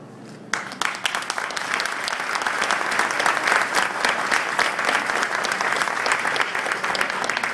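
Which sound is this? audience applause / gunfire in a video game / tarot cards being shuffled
audience applause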